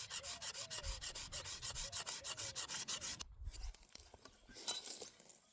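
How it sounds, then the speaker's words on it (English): Steel scraper drawn along the back of a wooden longbow: regular, close rasping strokes in a steady rhythm, then a pause followed by fainter scraping and a light clink. "I'm not very good at it, at chasing a growth ring, so I just do it with the scraper"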